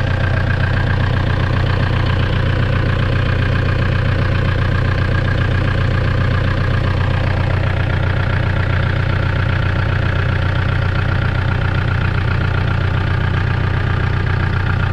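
Steady, loud idle of an Iveco 35-8 tow truck engine with a failed clutch, a constant low rumble with slight knocking that holds unchanged and close for the whole stretch, no voices.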